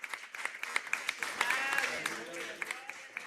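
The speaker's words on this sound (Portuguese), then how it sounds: "Palmas para o Rei Jesus." A church congregation claps along in steady rhythmic beats while a voice speaks or sings over the clapping throughout, with sharp, evenly spaced hand claps.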